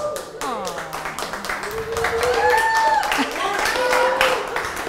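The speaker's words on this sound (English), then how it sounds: "That was the crappiest applause" Scattered, sparse clapping from a small audience, with voices and pitched tones sounding over it.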